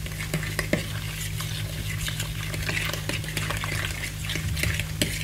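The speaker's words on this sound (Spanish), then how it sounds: "Voy a empezar con un tenedorcito, hacer así." A small fork whisks savory tart filling for a cherry tomato and feta tart, making quick, continuous scraping and tapping against the dish, close up over a steady low hum, with no speech.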